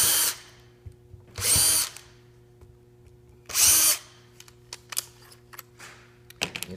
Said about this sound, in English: simply drill out those 4 holes